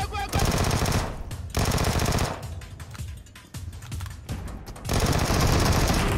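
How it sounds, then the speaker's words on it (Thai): Bursts of rapid automatic gunfire from the PUBG Mobile battle royale game, loud and dense, separated by brief lulls of quieter game sound and voices, with the firing resuming strongly at the end. "วิวิมีคนมายิงแจม"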